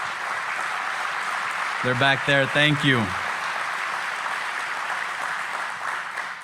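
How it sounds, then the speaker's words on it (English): An audience at a groundbreaking ceremony for a port of entry claps in a continuous patter, and a speaker briefly talks over the applause partway through. "so we could give you a round of applause of a thank you"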